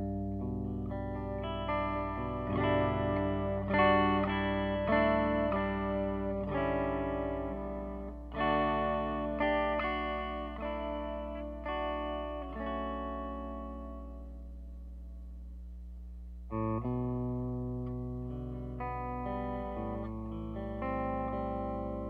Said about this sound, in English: I'm going to do some clean sounds first, and then some heavier distorted sounds.